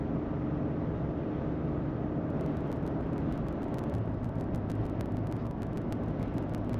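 A 2021 Ford F-150 King Ranch PowerBoost hybrid climbs a hill while towing, heard from inside the cab as a constant, heavy drone of engine and road noise, with faint rapid ticking toward the end.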